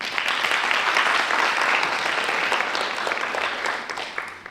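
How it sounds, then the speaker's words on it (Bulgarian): Sustained applause from an audience at a song competition, a dense, steady patter of many hands clapping that tapers slightly toward the end. "Аплодисменти!"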